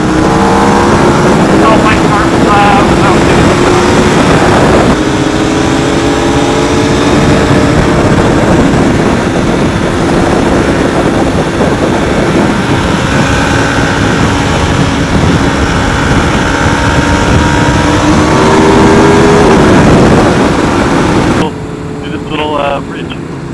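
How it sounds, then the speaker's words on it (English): A Subaru car drives along with its engine loud and close, a continuous droning roar that rises and falls for about twenty seconds, with people talking over it, before the sound drops abruptly near the end. "Oh, my car's loud."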